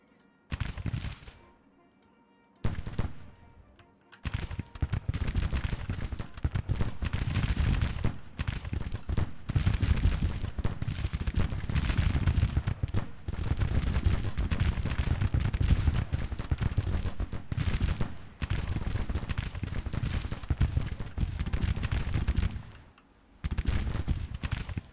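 Continuous crackle of massed musket fire from Civil War troops in Grand Tactician, dense rippling volleys that go on almost without pause, with short quieter gaps near the start and end.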